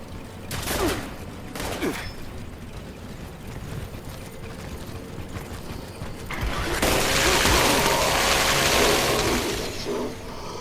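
Enemy gunfire in the video game Fallout 76, with a few sharp shots early, a stretch of rumbling game noise, then a loud sustained burst of rapid fire near the end.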